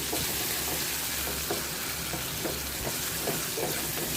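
Tomatoes and onions sizzle steadily in a hot pan, with a few soft stirring scrapes every second or so; no one speaks.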